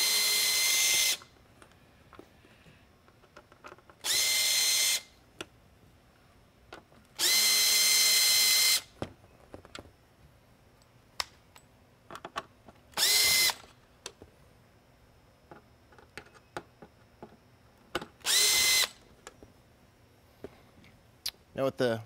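Power drill backing screws out of a Whelen 11-inch Century Series mini lightbar in five or six short, loud whirring bursts, with quiet handling clicks in between and a voice talking between bursts.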